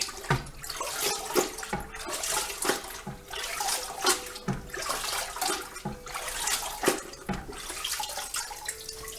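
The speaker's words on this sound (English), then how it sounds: "I'm gonna go ahead and dip this in the water" A carburetor is dunked and sloshed in a tub of water after a vinegar and Spick N Span soak, giving repeated splashing and gurgling bursts up close in a steady rhythm, with no talking.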